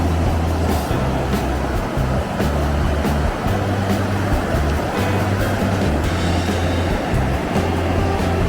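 Big ocean waves break at Newport Beach while surfers ride them, making a loud, steady roar of surf with a low rumbling undertone throughout.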